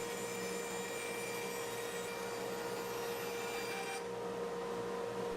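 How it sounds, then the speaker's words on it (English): A bandsaw runs with a steady motor whine and a constant rasping hum as it cuts away waste wood for a picture frame, unbroken for several seconds. "it's over to the bandsaw to remove the waste"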